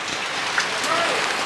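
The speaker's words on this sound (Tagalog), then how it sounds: "Umuulan-ulan pa, no?" Steady rain falling on a surface during an outdoor family gathering after a confirmation, a dense even hiss filling the clip with no pauses.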